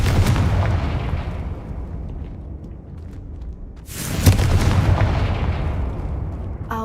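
Confringo spell explosion in the Hogwarts Legacy video game, a loud booming blast with a rumbling decay, followed by a second sharp burst and ongoing crackling rumble.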